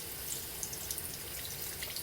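Tap water runs steadily from a faucet as a rugged phone is rinsed beneath it, a close, even hiss with light splashing and occasional small drips.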